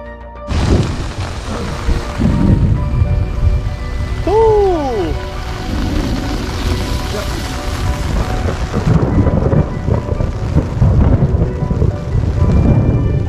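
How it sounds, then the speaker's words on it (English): Rain and thunder at an off-trail campsite with a tent and tarp set up: steady heavy rain and rumbling thunder throughout, up close. A brief whistling bird-like call rises over the storm. "we have some unexpected rain and thunderstorms"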